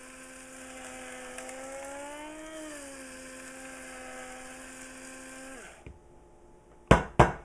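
A spice grinder whirs steadily while grinding Ceylon roast curry powder, a continuous motor drone that winds down and stops near the end, followed by a couple of sharp clicks or taps.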